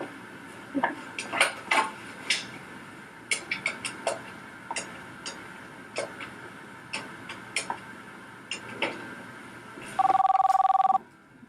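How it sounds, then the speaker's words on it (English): A telephone rings in two-tone bursts after a number is dialed on a remote coaching line, with a longer steady tone near the end; the rings are moderately loud over a quiet room, with no talk. "Can you please dial the remote coach number?"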